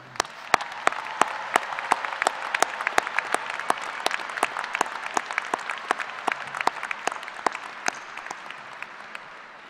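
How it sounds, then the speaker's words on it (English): Applause for graduates at the K-State Spring 2016 agriculture commencement, a sustained, fairly dense patter of many hands with sharp individual claps popping out, steady for nearly ten seconds and easing slightly at the end. "let's one more last round of applause for our graduates"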